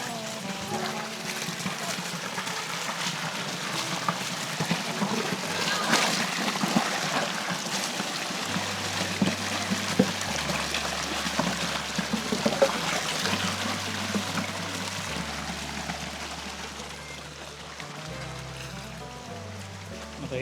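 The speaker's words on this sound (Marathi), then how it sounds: "हे चॉपिंग बोर्ड पाण्यात ओला करून आणतो जरा" A fairly new chopping board is rinsed in water, giving a steady trickling, pouring wash that runs throughout, with low droning tones underneath.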